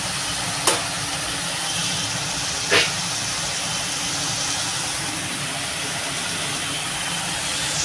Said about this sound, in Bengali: মশলাটা কষানো হোক ভালো করে